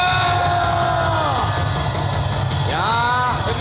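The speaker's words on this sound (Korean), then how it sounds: "자, 이쯤에서 우리 함성 한번 지릅시다" A rally crowd shouts a loud, sustained cheer together, with many voices yelling and whooping in rising and falling calls over a dense, continuous roar.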